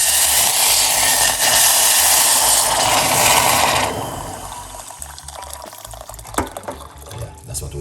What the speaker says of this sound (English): Let's pour some hot water in it.